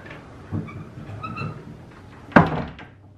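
A fold-down bed in a Disney World resort hotel room is pulled down, giving a few soft creaks and shuffles followed by one loud heavy thunk as it lands, with no voices.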